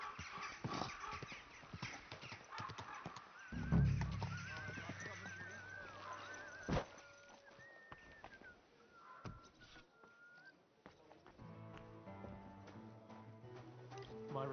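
A horse in the medieval game Kingdom Come: Deliverance 2 whinnies with a low snort near the start, amid ambient birdsong and scattered hoof clops, with a voice and game music in places.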